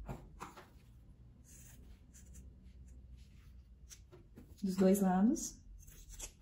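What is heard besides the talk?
cutting a milk carton with scissors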